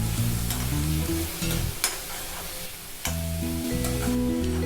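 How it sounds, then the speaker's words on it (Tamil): Grated carrot and onion sauté in a pan for kuzhi paniyaram, a continuous close sizzle and hiss running under background music, with no voices. "கேரட் சேர்த்து ஒரு 2 நிமிஷம் போல் நல்லா வதங்கிடுச்சு"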